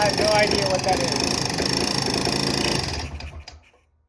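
A rough, worn-out dirt bike rattles with a steady mechanical clicking and buzzing close by, running continuously before cutting off and fading to silence near the end.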